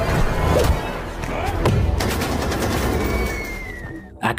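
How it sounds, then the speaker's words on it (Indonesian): A rifle fires in a film scene, a few sharp reports and thuds within dense noisy action, with voices mixed in and a loud final burst near the end. "tembakan nyasar Felipe barusan ternyata mengenai Kolonel Lom."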